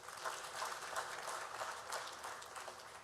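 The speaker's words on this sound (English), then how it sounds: "Another round of applause." An audience claps at a youth symposium, a steady wash of applause heard faint and distant, sustained evenly throughout with no voices over it.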